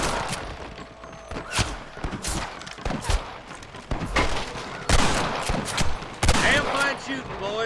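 Gunfire rings out in the Red Dead Redemption video game, with sharp, irregular shots and bursts against horse hoof clatter and shouting voices, loud and spread across the scene.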